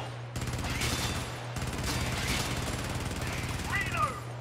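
Automatic turret fire in the game Helldivers keeps up a dense, continuous rattle of rapid shots, with a brief pause in the middle and faint whistling effects near the end.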